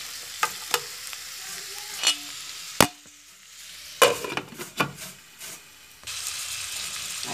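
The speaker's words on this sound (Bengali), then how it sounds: "এটা তেলের উপরে হালকা করে ভেজে নিতে হবে" Vegetables such as papaya, carrot and potato frying lightly in oil with salt for a Chinese-style vegetable dish, a soft sizzle broken by several sharp stirring and scraping clatters, close and with no talk.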